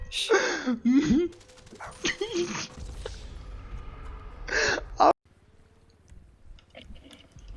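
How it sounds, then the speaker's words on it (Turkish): Dog sounds in the GTA Online video game, a few sharp yips and barks in short bursts near the start and again around the middle, with people talking and laughing between them. "Abi köpek sesi."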